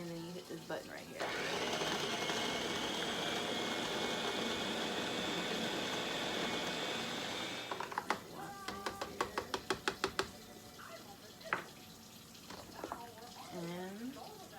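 A blender purees steamed potatoes with a little water for baby food, a loud continuous whir for about seven seconds that stops abruptly, followed by a series of sharp clicks and taps.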